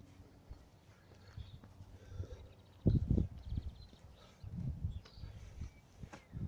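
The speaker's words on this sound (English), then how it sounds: "It is actually 2 horses." Hooves clip-clop in an uneven rhythm from two horses in a park, with a louder burst of hoofbeats partway through against faint outdoor background.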